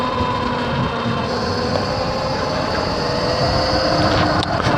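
X Pro dirt bike engine running steadily in third gear while riding a trail, a continuous loud drone with a high whine that stays constant throughout, no talking.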